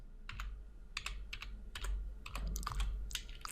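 Quick typing on a computer keyboard while entering a command in Git Bash, a steady run of close, crisp key clicks in small clusters with brief pauses, quiet and alone.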